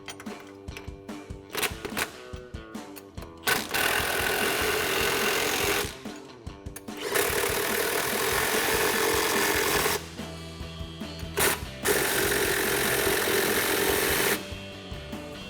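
Power tool tightening a 17mm-head control arm bolt and 16mm nut on a 2014-2018 Chevrolet Silverado 1500, close, loud whirring bursts of several seconds separated by short pauses.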